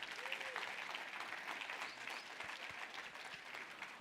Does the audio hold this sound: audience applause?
yes